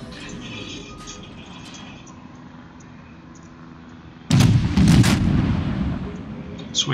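Naval artillery from a heavy cruiser battle in World of Warships, a low background rumble that erupts into a loud booming salvo of several heavy shots partway through and then fades into a lingering roar.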